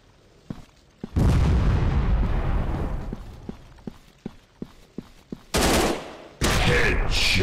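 Gunfire from the FPS shooting game Gun Strike Shooting 3D: a few sharp single shots, a heavy prolonged blast and then a run of regular spaced reports, ending in two loud bursts, all close and without talk.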